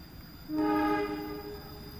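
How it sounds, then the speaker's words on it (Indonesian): Kutojaya Selatan train arriving at Karangpucung station, heard as a short, fairly distant multi-tone horn blast lasting about half a second over a steady background rumble. "Nah, keretanya sudah ada."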